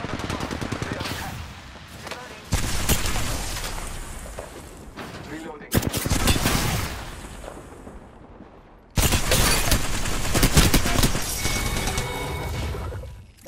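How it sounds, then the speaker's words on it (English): Gunfire in a video game shootout, loud bursts of rapid automatic shots in several long volleys separated by brief lulls, with a voice speaking at times over the fire. "Getting shot at."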